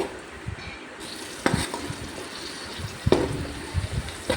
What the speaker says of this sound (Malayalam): അതിലേക്ക് നമുക്ക് അണ്ടിപ്പരിപ്പ് മുന്തിരിങ്ങ രണ്ടും കൂടെ ഒന്ന് പറത്തെടുക്കാം